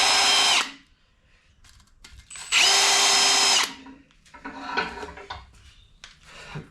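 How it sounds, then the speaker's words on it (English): A power drill with a wire brush attachment whirs in two loud bursts, scrubbing the metal of an MG engine, separated by clunks and rattling of tools in between. "I have a wire brush fitting that I put in the end of the drill"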